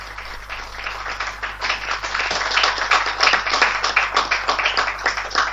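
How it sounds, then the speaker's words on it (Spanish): Audience at a peace-action teleconference clapping for a speaker, a dense patter of hands that builds slightly over several seconds over a low steady hum. "vamos a brindarle un aplauso fuerte a Álvaro"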